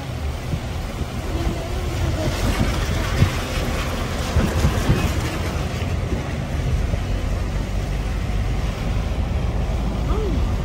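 Typhoon floodwater rushes through a street as strong wind buffets the microphone, a continuous loud roar of water and gusts with no clear pauses.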